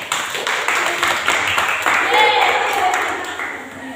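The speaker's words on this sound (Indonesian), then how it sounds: "Oke, tepuk tangan untuk Aziza." A classroom claps for a student during a lesson, a short burst of applause with the teacher's voice and children's chatter around it.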